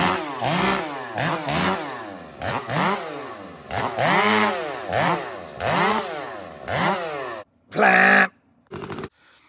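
A Stihl 500i chainsaw cuts through small wood in a rapid series of rev-and-bite cycles, loud and close, each burst climbing and dropping, before a couple of short final blips.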